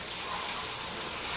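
Water pours into a cooking pot of gizzards and sofrito for escabeche, a loud, steady gush that runs for the full short moment with no voices over it.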